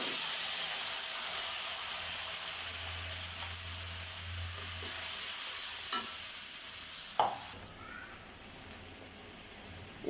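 Blended paste of green chilli, onion, garlic and cumin hits hot oil with a steady hiss and sizzle, stirred now and then, with a sharp clatter near the end; fish-with-bottle-gourd cooking, no talk.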